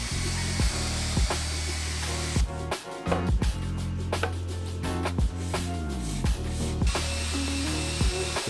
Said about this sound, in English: Then for better finish I'm using a nylon abrasive wheel on my drill.